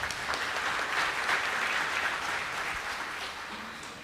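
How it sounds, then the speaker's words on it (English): An audience at a postgraduate orientation ceremony applauds in a dense, sustained wash of clapping that fades slightly toward the end. "Please don't hold back on your applause."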